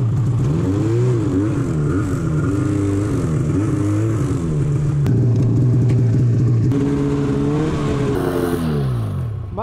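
A snowmobile engine on an icy trail revs hard and close, its droning two-stroke pitch rising and falling steadily before winding down at the end.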